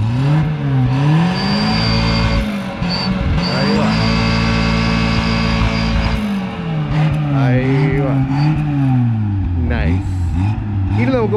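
Modified Hindustan Contessa petrol engine revved repeatedly, the note rising and falling in several strong sweeps over a steady idle, loud and close, with a voice speaking briefly between revs.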